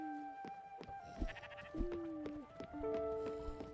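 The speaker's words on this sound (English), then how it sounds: "Oh, we still have the sheep on here." Sheep bleat repeatedly on a farm in the Spiritfarer video game, several wavering calls overlapping one another at moderate volume, with faint game ambience beneath.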